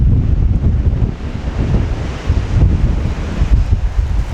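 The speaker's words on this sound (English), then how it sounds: "That wind is something wicked." Strong wind from a huge snowstorm batters the microphone in a steady, heavy low roar with surging gusts, loud and continuous with no talking.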